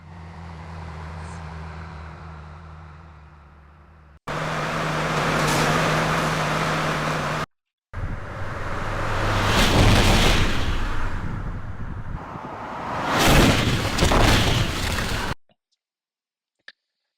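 Synthesized bus crash impact audio plays as several separate bursts of harsh, noisy crash sound, the later ones louder and sharper, with short silent gaps between them and silence at the end.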